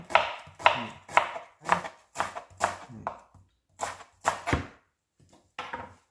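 A knife chops lemongrass on a board in about a dozen sharp, evenly spaced strokes, with brief pauses between bursts.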